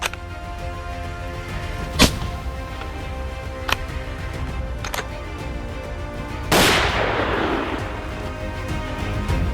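Rifle shots during a wild boar hunt, sharp isolated cracks spaced several seconds apart, the last followed by a longer burst of noise, all against steady outdoor background hum.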